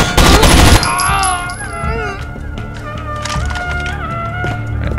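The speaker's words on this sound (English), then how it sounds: "I don't know where they are shooting" Rainbow Six Vegas firefight: a loud burst of automatic gunfire opens, followed by scattered sharp cracks and distant shots popping irregularly through the rest.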